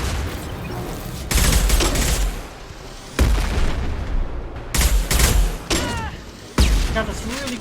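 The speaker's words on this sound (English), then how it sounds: "Got this really cool rocket launcher, but those rockets fly very slow" Slow rockets fired from a rocket launcher in Mass Effect 2 boom repeatedly in a loud, dense barrage, several heavy blasts and bursts of gunfire spaced across the stretch.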